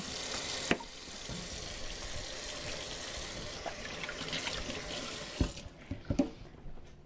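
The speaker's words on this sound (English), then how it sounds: "Now I'm going to wash my hands because I'm going to be mixing the ingredients" A kitchen tap runs water over hands being washed before mixing ingredients for a French potato salad, a steady hiss of flow with a few sharp knocks and clatters toward the end.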